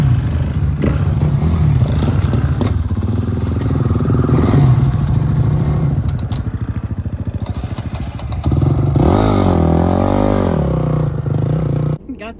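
A dirt bike off-roading, its engine revving and shifting pitch up close over bumpy terrain, loud and continuous with clattering thumps, then cutting out near the end, while people talk over it.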